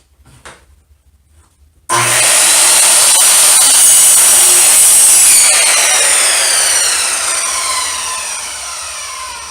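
A power saw cutting laminate flooring for an office chair mat, a loud continuous whining buzz that starts abruptly and runs steadily for several seconds, slowly easing at the end, with no talk over it.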